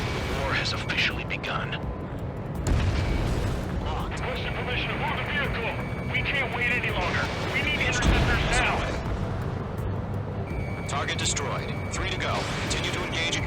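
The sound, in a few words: anti-aircraft fire in video game Ace Combat 7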